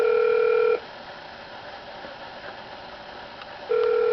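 A steady telephone line tone sounds during a phone call, cutting off after a moment, leaving faint background line hiss, then returning at the end.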